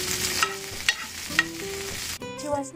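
Curry leaves frying in hot oil while being stirred, a close crackling sizzle with a few sharp spatula scrapes and pops, ending with a brief clatter.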